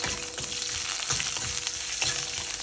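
Cumin seeds frying in hot oil for an Andhra-style ridge gourd dal: a loud, steady close sizzle with faint stirring taps, and no talk.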